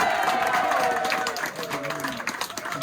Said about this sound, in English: So please give another raucous applause for Christopher Fowler.